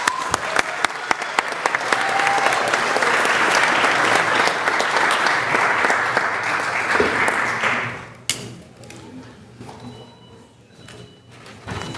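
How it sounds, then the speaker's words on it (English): Loud, dense applause from a crowd at a school committee meeting lasts several seconds, then tapers off into a few scattered claps and room noise. "Let's give them a round of applause."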